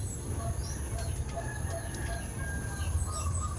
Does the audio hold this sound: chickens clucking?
yes